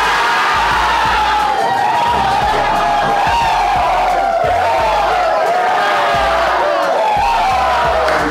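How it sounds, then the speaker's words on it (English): A hockey arena crowd at Mariucci Arena roars in a dense, loud, continuous wall of shouting and jeering aimed at the Gophers, with sharp bangs and thumps scattered underneath. "Fans booing the Gophers"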